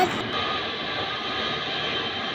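A large airliner arriving from Dubai taxis at Dhaka's Hazrat Shahjalal International Airport, its engines giving a steady, even roar that stays constant and fairly loud for the whole moment.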